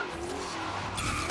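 Mustang tires skidding while drifting in Forza Horizon 3, a continuous loud screech over engine roar that swells toward the end.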